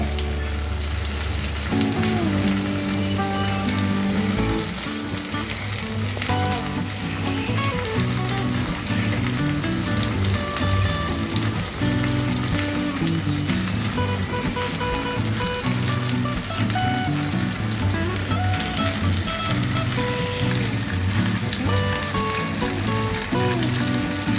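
Tandoori chicken frying in butter on a tawa, a steady dense crackling sizzle that holds loud and even throughout, with no voices over it.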